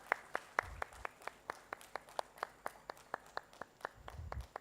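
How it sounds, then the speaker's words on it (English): Applause at a textile launch event in Bhubaneswar, heard as a thin, steady clapping at a regular rhythm with a few low thumps, fairly faint and distant. "A big round of applause, ladies and gentlemen"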